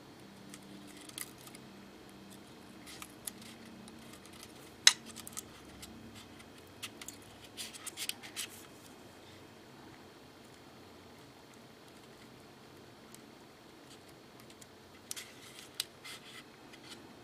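A 1/72 Bandai HG V-33 Stork Carrier plastic model kit part is cut with snips, giving scattered sharp clicks and snaps, one loud crisp cut among fainter handling ticks, over quiet surroundings.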